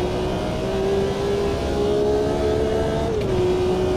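A race car engine in the racing game AMS2 drones steadily under power, a loud sustained whine holding pitch, then briefly dipping and recovering as the car accelerates out of a corner.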